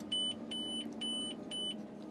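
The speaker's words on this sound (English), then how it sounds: "it's beeping there that it's full" A farm drill's electronic alarm beeps to signal it is full, giving four evenly spaced, high, steady tones over the low rumble of the tractor cab.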